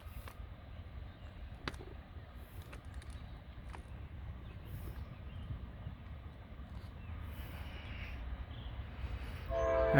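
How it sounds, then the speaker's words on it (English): A train comes around a bend in Wyoming, a low distant rumble steadily building with brief horn blasts and faint clanks, growing louder toward the end. "Got that train coming."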